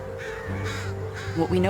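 Crow caws over steady low background and talk-like sound, a couple of harsh calls rising near the end, fairly close and loud.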